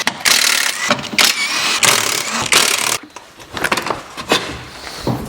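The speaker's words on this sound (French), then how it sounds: "À la clé à choc, ça va plus vite." Impact wrench zipping out the bolts of the engine undertray on a Dacia in a workshop, several loud bursts of whirring and rattling in quick succession, with mechanical clatter between them.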